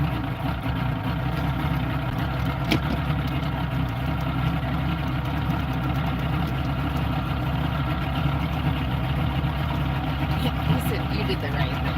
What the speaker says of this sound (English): I would like fire the outboard and like idle out of here.